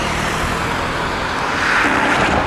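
Cars rushing past at high speed on a road in Alanya, a loud continuous roar of traffic with a vehicle whooshing by close toward the end.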